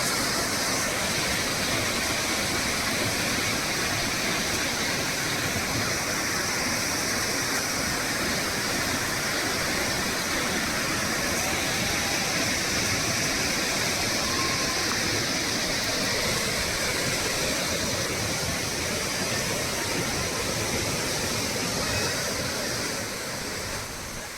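A steady, loud rush of falling water from Beema Falls in the Javadhu Hills, Jamunamarathur, roars continuously throughout, dense and unbroken, with no voices.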